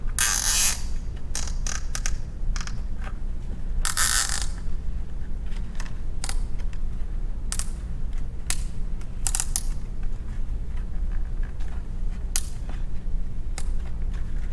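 Nuts are snugged down by hand on a homemade lionfish container, giving sparse, sharp mechanical clicks and ratcheting snaps in scattered bursts over a quiet background, with no talking.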